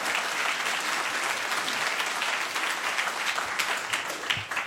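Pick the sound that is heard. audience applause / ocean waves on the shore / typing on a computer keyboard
audience applause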